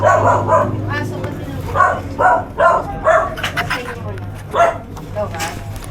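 A house dog barks in a series of sharp, separate woofs spaced irregularly across a few seconds, close and loud over a constant low hum.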